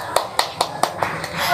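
Scattered hand claps from a classroom give a brief round of applause, sharp individual claps spaced about a fifth of a second apart, fairly close, tapering off after a second and a half.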